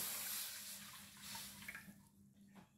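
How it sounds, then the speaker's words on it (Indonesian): A little water poured into a frying pan while cooking Indonesian snakehead fish soup, heard as a soft, steady hissing stream that thins out into a few trickles and drips at close range. "tuangkan air sedikitnya."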